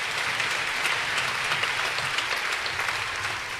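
A church congregation at Sunday Mass applauding together, a dense, steady wash of many clapping hands filling the space, sustained throughout with no talking.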